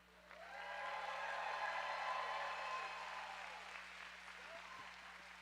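A crowd at a roller derby bout breaks into sustained applause that swells, holds steady for several seconds, then tapers, with a faint steady electrical hum beneath.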